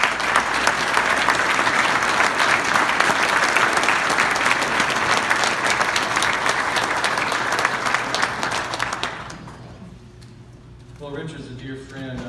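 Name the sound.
audience applause welcoming a speaker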